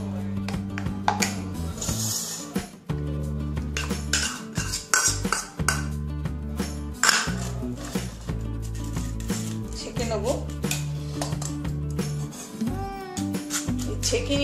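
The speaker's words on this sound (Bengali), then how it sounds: "এটাকে ভালো করে আমি ছেঁকে নেব একটু জল মিশিয়ে, ছাঁকনিতে করে ছেঁকে নেব।" Mustard paste from white and black mustard seeds is mixed with water and strained through a sieve, producing close, irregular clinks and scrapes of utensils against metal bowls, with a voice talking now and then.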